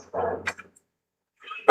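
Dogs barking in the Resident Evil 2 Remake video game, a short burst of yips and barks near the start, then quiet before another sharp bark at the end.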